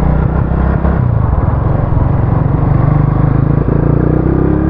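A Raider 150 carburetor motorcycle engine runs loud and close with a rapid, steady throbbing rev, alone without voices.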